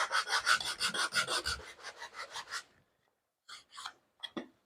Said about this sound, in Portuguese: Lixei o outro lado.